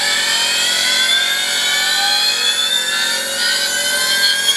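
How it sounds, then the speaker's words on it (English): A milling machine motor with worn-out bearings whirs up to speed, a loud, steady high-pitched whine with a rough, grinding edge that holds continuously throughout. "It's always cool to hear a motor whir up. Yes, except for this one's bearings are out."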